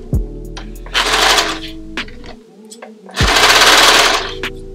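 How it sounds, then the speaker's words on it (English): A serger sewing machine stitches along the edges of a two-piece ring bikini swimsuit to narrow the ends, running in two loud, fast whirring bursts separated by a short pause and a quiet gap, with faint clicks between. "put it back under my serger machine and make the ends more narrow"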